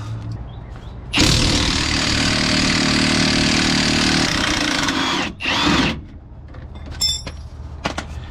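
A power tool working the lower shock bolt on a Nissan Xterra during a differential replacement, a loud sustained whirring buzz for about four seconds, a short second burst, then quieter clinks of metal.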